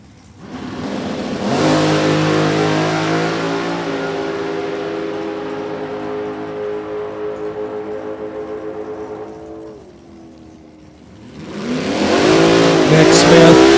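NHRA drag racing cars at Thunder Valley Motorsports Park, with a loud, sustained engine roar that builds, holds and fades as they run down the track, then another surge of engine noise near the end.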